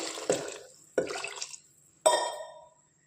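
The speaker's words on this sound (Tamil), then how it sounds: "இப்போ தண்ணி." Water poured into a cooking pot holding lentils, tomato, onion, garlic, cumin and oil for dal rasam, heard as three separate splashing pours, each a sharp onset that trails off, with clinks against the vessel and no talking.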